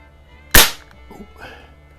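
A Beeman AR2078 CO2 target rifle fires a single sharp, loud, close crack, followed by faint, low handling noises.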